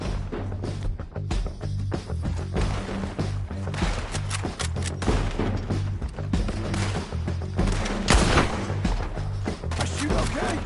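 Gunfire in a PS4 shooter, rapid dense bursts of shots and impacts layered over loud game music and effects, continuous and close.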